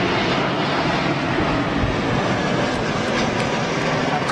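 An Airbus A320neo in old livery at Manchester Airport gives a steady, broad jet roar, fairly loud and continuous, with no clear talk.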